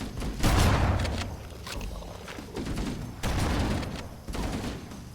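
Repeated bursts of rapid gunfire from Halo CE Anniversary, loud and close, arriving in several separate volleys with heavy low thumps and short pauses between them.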